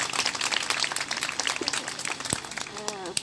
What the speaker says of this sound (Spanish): Un aplauso para la compañera Noemia.